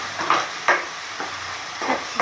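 Onion already roasted, frying in oil in a pan for a tamarind fish curry, with soft sizzling and several brief stirring scrapes at an even rhythm, close by and with no talk.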